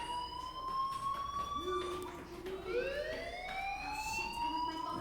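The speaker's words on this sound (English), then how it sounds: "do you hear that fire alarm?" A synthetic fire alarm in the video game Life Is Strange wails with rising and falling electronic tones, several overlapping sweeps, steady and fairly loud over a faint background hum.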